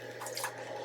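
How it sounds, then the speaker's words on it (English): Warm water for Irish coffee is poured out of a glass, a brief soft splash and trickle, close and quiet, with no talk over it. "so we can just pour out this water."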